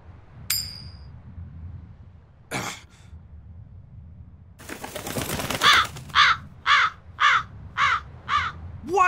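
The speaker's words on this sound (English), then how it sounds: "That crow just flew off with the coin." Crows caw repeatedly in Tales of Berseria, a run of six or seven loud, evenly spaced harsh calls following a few scattered earlier noises, with no talking.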